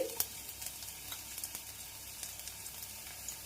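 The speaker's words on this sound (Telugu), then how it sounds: "ఇప్పుడు దీంట్లోకి సన్నగా తరిగిన వెల్లుల్లి రెమ్మలు వేసుకుందాం అలానే పచ్చిమిర్చి" Thinly chopped garlic and green chilies fry in oil in a kadai, giving a faint, steady sizzle broken by small pops and light stirring taps, close and without talk.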